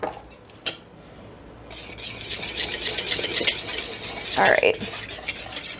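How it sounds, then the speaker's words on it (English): Whisking zucchini bread batter with salt in a bowl: a steady scraping, swishing rattle builds up and grows louder toward the end, with brief clinks against the bowl and a short spoken remark near the start. "now whisk it together"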